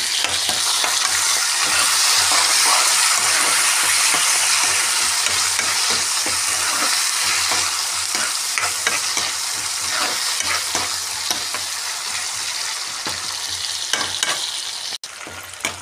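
Onions, green chillies and curry leaves frying steadily in hot oil in a pan, a loud continuous sizzle with faint stirring scrapes throughout, no voices.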